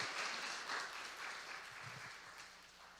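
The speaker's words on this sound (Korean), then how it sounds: "사역자를 위해서 박수 한번 보내주시면 좋겠습니다." A church congregation at a Korean Sunday worship service gives a round of applause for its staff and ministers, with soft, somewhat distant clapping that fades gradually over a few seconds.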